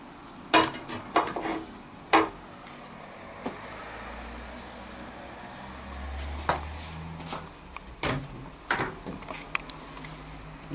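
Pans and utensils clatter during egg cooking on a road trip in Slovenia, with a series of sharp metallic clinks and knocks spread irregularly over a quiet background and a low rumble in between.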